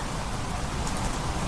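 Heavy rainstorm pouring steadily on surfaces, a dense, continuous hiss of rain close by with no let-up and no voices.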